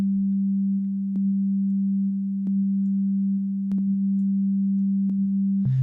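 A near-pure sine wave sample edited in Iris 2 sounds as a steady, unbroken low tone with faint periodic clicks, then shifts abruptly in pitch at the very end.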